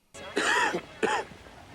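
Two short, close throat-clearing coughs from a man, a brief rough burst followed by a second smaller one.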